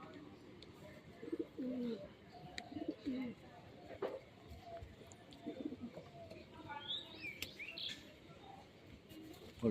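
Pigeons coo repeatedly in soft, low, throaty phrases at close range, with scattered chirps and rustles and people talking in the background.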